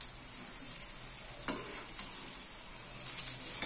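Moong dal pakoras frying in hot oil, a quiet steady sizzle with a couple of soft spatula clinks and stirs as they turn, no voice over it.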